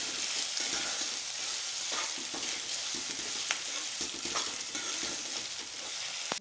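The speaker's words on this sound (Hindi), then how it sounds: "आंच धीमे करके 2 मिनट के लिए हल्दी को अच्छे से इसमें फ्राई करेंगे।" Turmeric frying over low heat in a pan with paste for Rajasthani haldi sabzi, a steady broadband sizzle with repeated soft stirring scrapes throughout, close and fairly loud, no voices.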